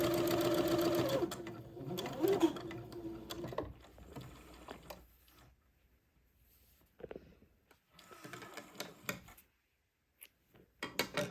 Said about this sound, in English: I'll sew my next one 1/4 of an inch away from the first one